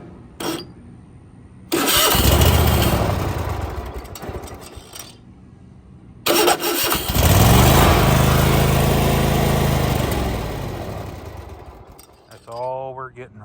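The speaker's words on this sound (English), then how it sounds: "let's get this thing up in the air and see what we can do and make this thing crank and run" A Kohler small engine with its choke pulled fully out cranks in two long bursts, loud churning and rattling that rise and sag without catching, separated by a quiet pause, with a brief voice at the end.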